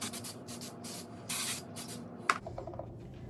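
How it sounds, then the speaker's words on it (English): Several short hissing bursts from an aerosol texture spray can on hair, with a longer spray in the middle and some soft rubbing afterward. "So we're gonna add some of the same texture spray I added earlier."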